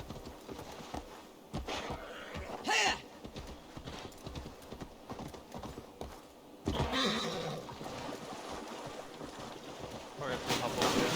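A horse in the Assassin's Creed video game whinnies amid steady clip-clop hooves and ambient game sounds, with someone talking over parts of the scene.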